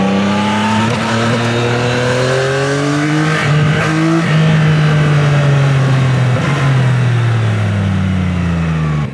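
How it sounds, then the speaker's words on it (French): A Yamaha motorcycle engine runs steadily and loudly close by, its harmonic drone rising and falling as the revs climb in smooth sweeps, with no voices over it. "là je peux vous faire écouter un peu le son du moteur"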